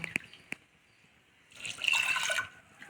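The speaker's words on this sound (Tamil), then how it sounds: "நல்லா ஒரு நாலு மடங்கு தண்ணி இதில் ஆட் பண்ணிக்கலாம்" Water poured into a pot of lentils (toor dal and moong dal) while cooking a gravy: two small drips, then a steady pouring splash for about a second, close and moderately quiet.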